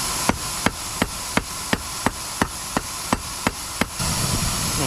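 An old metal file, heated, is hammered to draw it out into a steel fire starter: about ten evenly spaced, ringing strikes in quick succession. A broad rushing noise takes over near the end.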